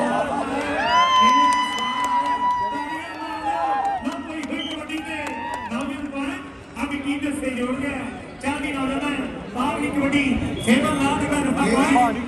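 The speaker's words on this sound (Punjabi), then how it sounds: "ਇੱਕ ਵਾਰੀ ਜ਼ੋਰਦਾਰ ਤਾੜੀਆਂ ਮਾਰ ਦਿਓ" A large outdoor crowd at a kabaddi fair in Ohio, with dense clapping and cheering swelling into loud, continuous applause, whoops rising above the din, and shouting and chatter mixed in throughout.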